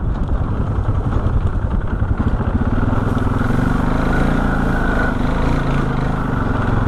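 A rebuilt Honda 420 engine runs continuously nearby, a low, even, slightly clattering hum that holds steady throughout without speech.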